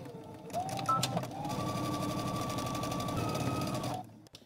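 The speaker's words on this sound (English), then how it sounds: "I'm starting at my hem and I'm using a normal length stitch." A sewing machine runs steadily at normal stitch length while stitching an invisible zipper from the hem upward, a close, continuous mechanical whir lasting several seconds before it stops.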